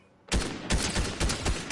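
Rapid automatic gunfire bursts out in a video game after a quiet moment: loud, close, repeated volleys with short gaps between them.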